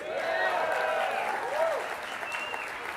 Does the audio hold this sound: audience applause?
yes